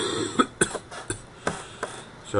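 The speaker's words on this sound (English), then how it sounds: "I have a bad cough" Several short, sharp coughs in a loose irregular series, close to the microphone, with quiet pauses between them.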